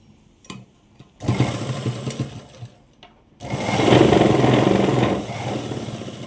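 An electric sewing machine runs in short bursts while stitching a plain blouse, loud and close: a brief whir, a longer steady run, a pause, then a sustained, slightly louder stretch of stitching.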